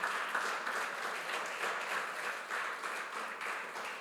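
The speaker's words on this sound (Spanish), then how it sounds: "denle el aplauso fuerte al Señor" A church congregation applauds in a steady, dense wash of clapping that sounds fairly distant and reverberant, with no clear speech.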